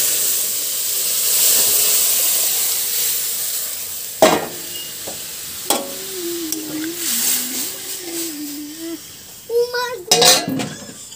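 Spices tempered in hot oil for dal, with sizzling and hissing in the pan, a few sharp clinks of utensils, and people talking over the cooking.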